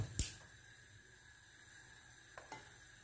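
Garlic and artichokes fry in olive oil in a pan, giving a faint, steady sizzle, broken by a sharp utensil clink at the start and a couple of soft knocks near the end.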